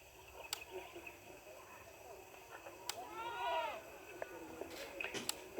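Goats bleat once at a Moroccan shrine market that also sells black hens, and the call sounds fairly distant over a quiet background with scattered clicks and knocks.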